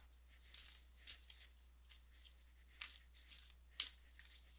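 Inner Temple Oracle cards are shuffled by hand in a quiet room, giving soft, faint papery riffles and crinkling bursts at irregular intervals, with one brighter snap near the end.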